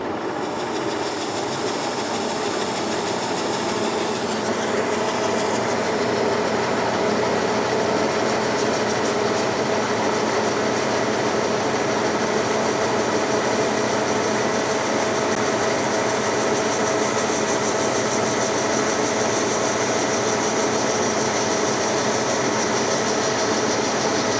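A drill bores into tough AR500 plate steel, a loud, steady machine roar with a high whine running unbroken and close throughout.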